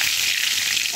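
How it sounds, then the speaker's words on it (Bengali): Bay leaf dropped into hot oil in a pan while cooking a fish curry, giving a bright, dense crackling sizzle that stays loud and steady with no voices. "এবার আমি তেলের মধ্যে দিয়ে দেবো তেজপাতা"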